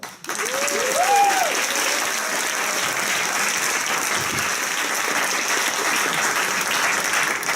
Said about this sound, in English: Welcome on stage with a warm applause, Peter Oliver